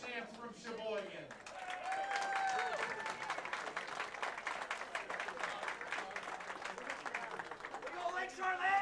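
A crowd applauds the Sheboygan South girls' state champion high school bowling team at the Wisconsin championships, with steady clapping and cheers filling a bowling center while a voice speaks over it.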